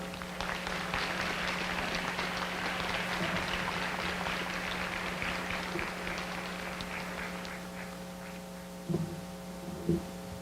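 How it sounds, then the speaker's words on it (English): Sustained audience applause welcoming a speaker at a community conversation event, a dense steady wash of many hands clapping over a constant low electrical hum, with a couple of louder thumps near the end. "Thank you for such a warm applause."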